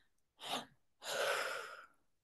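A person demonstrates a breathing exercise: one short audible intake of breath, a pause, then a long, steady, breathy exhale, close and fairly quiet.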